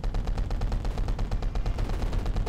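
Starship weapon in the Galaxy Ace space shooter firing a rapid, steady stream of projectiles, dense rhythmic bursts of shots continuing without pause, loud and close.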